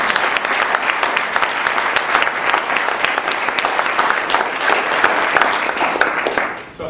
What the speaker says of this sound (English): please clap for the principals